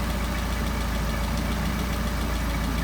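Small Solex moped engine running steadily at close range while its throttle linkage is adjusted, a continuous low buzzing drone with a faint knocking pulse and no voices.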